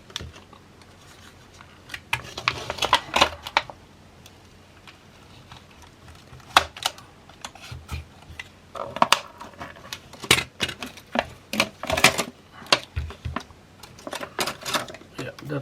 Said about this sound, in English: maybe we can just pry this open now